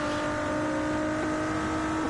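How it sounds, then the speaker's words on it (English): A race car engine in a racing video game drones steadily and loudly with sustained harmonic tones, a continuous close engine note with no talk over it. "you can hear the engine, that car sounds awesome"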